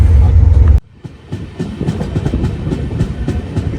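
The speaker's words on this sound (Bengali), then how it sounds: "চাকা থেকে এখন যে আওয়াজটা আসছে, এটা কিন্তু স্পিডে চললে আওয়াজটার একটা আলাদাই রূপ ধারণ করে, মানে টাক টাক টাক টাক করে যে আওয়াজটা হচ্ছে" A Puri Shalimar Garib Rath Express rolling along the track, its wheels beating a steady loud clickety-clack over the rails after a brief hush.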